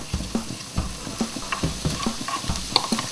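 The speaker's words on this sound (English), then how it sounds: "While the onions, garlic and ginger and all the other bits cook together" Onions, garlic and ginger cook in a pan for a chicken curry, giving a close, steady sizzle with repeated spoon scrapes and stirring knocks at an even rhythm, with no talking.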